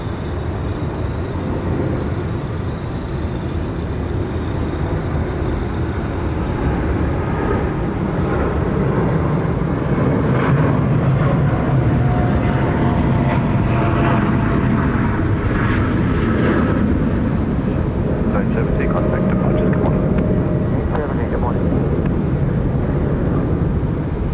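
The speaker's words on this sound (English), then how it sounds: "United 870, long takeoff roll." A United airliner on its long takeoff roll at Sydney Airport roars steadily and loudly with a broad engine rumble that swells slightly midway, heard alone without talk.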